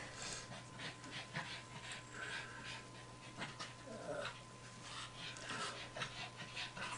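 A dog pants with steady, rapid breaths close by in a home, with a constant low hum underneath and no speech.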